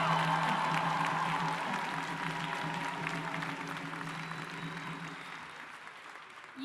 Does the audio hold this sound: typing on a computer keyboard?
no